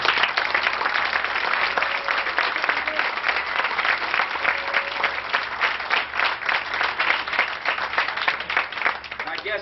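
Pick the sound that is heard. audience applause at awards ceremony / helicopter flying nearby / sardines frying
audience applause at awards ceremony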